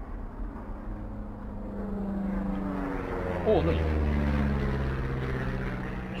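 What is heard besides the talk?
airplane flying overhead in video game Firewatch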